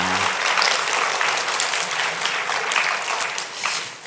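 Congregation at a Korean church Sunday worship service claps steadily together, a dense, even wash of applause that holds for about four seconds and starts to thin at the end.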